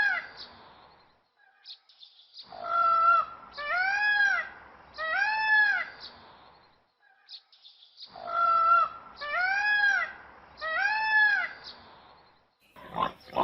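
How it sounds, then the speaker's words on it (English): A peacock gives loud, close, nasal wailing calls. They come in two clusters of several rising and falling cries, separated by quiet pauses. "peacock,"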